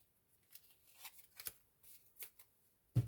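Tarot cards being shuffled by hand, with soft, scattered riffling and sliding flicks in short bursts, quiet and close, ending in a louder bump.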